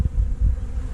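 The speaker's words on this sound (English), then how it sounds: "More bees have found it" Bees buzzing close by while feeding on peppermint syrup, a brief low droning hum with a couple of louder swells as insects pass near.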